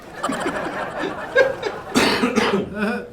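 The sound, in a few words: cough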